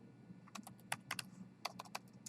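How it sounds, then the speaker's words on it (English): Keys clatter on a computer keyboard in irregular quick bursts of clicks, close and fairly quiet, with short pauses between runs of strokes and no talking. "Why am I having troubles typing today?"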